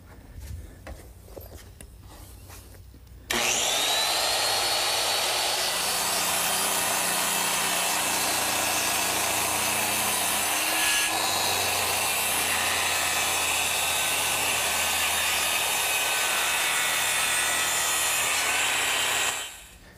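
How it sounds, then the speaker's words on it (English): A circular saw rips through two nailed wooden gable pieces clamped in a bench vise, starting after a few seconds of quiet and running as one loud, steady, close whine for about sixteen seconds before winding down. "with them clamped in the bench vise, I'm ready to cut them with my circular saw"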